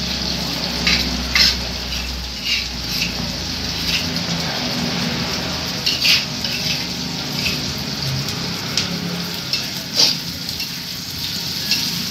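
Green chilies frying in a pan for sambal, giving a steady loud sizzle and crackle with occasional sharp pops and stirring, close and without voices.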